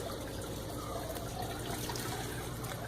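Water being thrown out and circulated in a sump tank, a steady close rushing and splashing churn with no pauses or voices.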